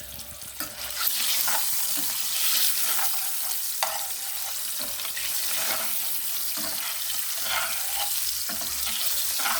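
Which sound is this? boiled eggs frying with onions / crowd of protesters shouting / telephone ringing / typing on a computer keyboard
boiled eggs frying with onions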